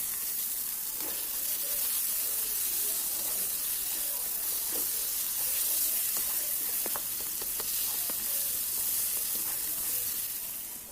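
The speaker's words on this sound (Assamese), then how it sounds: "আৰু এতিয়া গোটেই বেঙেনা আৰু কণীখিনি ধুনীয়াকৈ ভালদৰে মিক্স হৈ যোৱালৈকে ভাজি" Mashed eggplant and egg frying together in a pan for baingan bharta, giving a continuous loud hissing sizzle with occasional stirring clicks close by.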